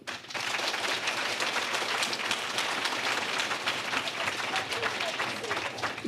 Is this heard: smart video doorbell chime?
no